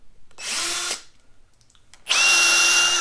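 Ryobi 18V brushless drill driver whirring loudly as it drives into wood, running for about half a second, stopping, then revving up again in a steady high-pitched burst.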